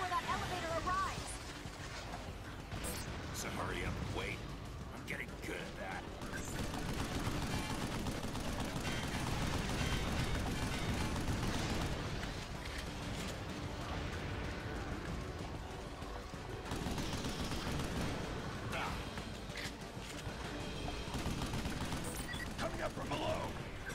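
Battle gunfire in the video game Vanquish, a steady wash of distant shooting and mechanical clatter under dense game sound and scattered voices.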